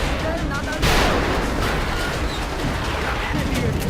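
Dense, crackling bursts of video game gunfire from XCOM roll on continuously, loud and busy, with a heavier burst near the start amid a noisy battle din.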